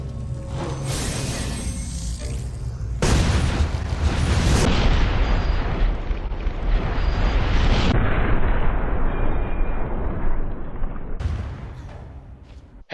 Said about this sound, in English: Now it's time for my Magnum tradition to do an explosive headshot on a standard enemy.